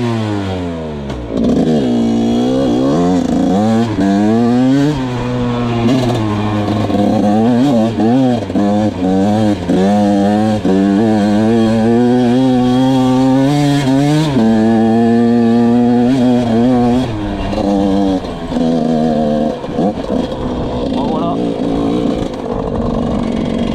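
A motorcycle ridden with a passenger on board for the first time, its engine revving up and down through repeated accelerations and gear changes, loud and close throughout with a steady droning roar.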